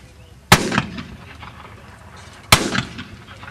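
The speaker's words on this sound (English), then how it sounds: "You do that by firing another volley." Civil War reenactors of the 2nd and 4th U.S. Infantry fire musket volleys at Gettysburg: two sharp, loud cracks about two seconds apart, each trailing a brief ragged echo in the open air.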